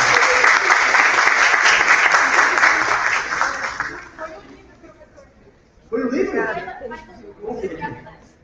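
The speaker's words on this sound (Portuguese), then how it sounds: "Uma salva de palmas." An audience at a university Animal Science Day event bursts into loud, dense applause mixed with cheers and chatter, fading after about four seconds before voices pick up again.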